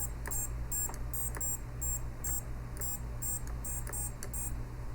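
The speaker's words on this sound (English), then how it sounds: "and it is beeping." A quadcopter receiver on a Tyro89 quad kit beeps after its battery is connected, sounding a rapid series of short high-pitched beeps in steady bursts over a constant low electrical hum, fairly quiet with no voices.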